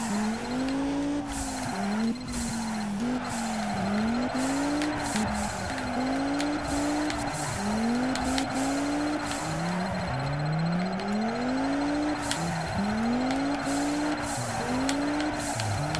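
A car racing in the video game Juiced 2, the engine revving up and dropping over and over as it shifts gears, with sharp clicks and tire noise on top, steady and close, with no voices.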